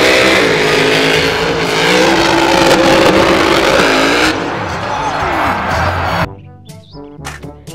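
A toy monster truck plays a loud recorded engine revving with rising and falling whine, ending in a few short electronic bursts.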